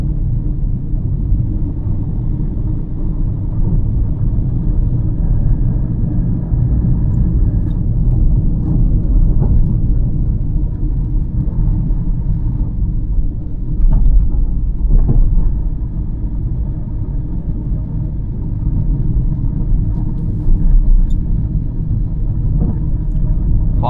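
A car engine pulling steadily in third gear at around 1500 RPM during a night drive through Chennai city streets, a continuous low rumble that stays even throughout with no talking.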